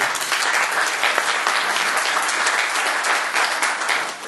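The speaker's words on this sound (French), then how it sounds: "Je pense qu'on peut les applaudir" An audience at a conference claps steadily, a dense wash of applause that holds at an even level for a few seconds without any voices.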